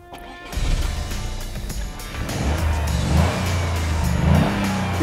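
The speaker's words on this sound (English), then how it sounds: "It sounds like a rally car." A Toyota GR Yaris with its small engine revs hard, the loud rally-car-like note climbing and holding after a brief quiet start, the pitch rising in steps as it builds.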